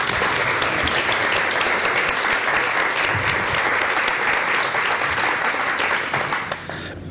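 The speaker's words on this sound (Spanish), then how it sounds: "Un aplauso a Manuel de Roca." Audience applause for a speaker at a talk on children's stories, a dense, steady clapping from a full room that carries on for several seconds before tapering off at the end.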